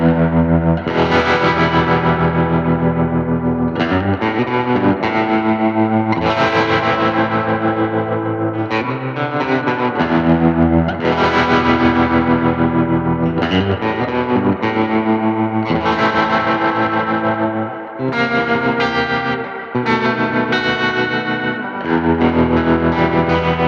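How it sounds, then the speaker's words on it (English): Electric guitar played through a Walrus Monument tremolo pedal, sustained chords pulsing in steady volume swells with a distorted, effected tone, loud and continuous, with no talking. "my favorite effect of all, the Walrus Monument tremolo pedal"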